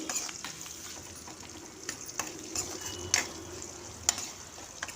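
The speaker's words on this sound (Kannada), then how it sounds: "ಇದು ಸ್ವಲ್ಪ ಫ್ರೈ ಆದಮೇಲೆ ನಾನು ಒಣಮೆಣ್ಸಿಕಾಯಿ ಹಾಕೋತಾ ಇದ್ದೀನಿ ಹಾಕೊಂಡು ಸ್ವಲ್ಪ ಚೆನ್ನಾಗಿ ಫ್ರೈ ಆಗಿದೆ ನೋಡಿ" Dried red chillies frying in hot oil for soppu sambar, a soft steady sizzle with a few sharp clinks and scrapes of stirring, fairly quiet and close, with no voices.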